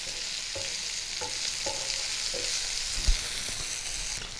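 Bitter gourd pieces fry in oil in a wok with a steady, soft sizzle, broken by periodic scraping stirs and one sharp knock of a utensil against the pan; no talking.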